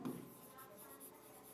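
A pen or marker strokes across a board during an English grammar lesson, giving soft, faint rubbing scratches in short repeated bursts over a low steady background hum.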